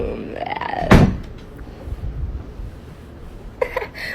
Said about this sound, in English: Why'd you lock the door?